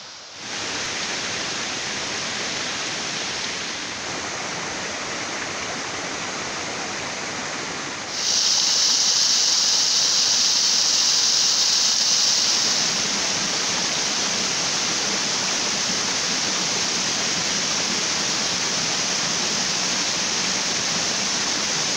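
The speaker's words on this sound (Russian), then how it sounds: "ручей разлился." Swollen, overflowing stream rushing through a gorge, a loud steady broadband roar that stays close and continuous throughout, with no talking over it.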